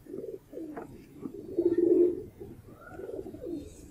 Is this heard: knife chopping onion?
no